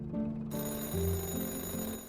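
A telephone rings in Chocolate Factory Simulator, an electronic tone in the video game mixed under steady game music and held throughout.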